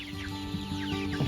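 Farm chickens cluck softly at close range in a brief stretch of short, repeated calls over quiet background noise.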